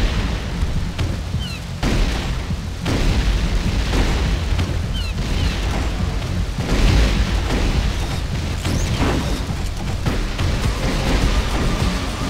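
Grenade launcher explosions in a video game keep up a dense, loud barrage of booms and bursts with hardly a pause, heavy low rumble layered under crackling impacts throughout.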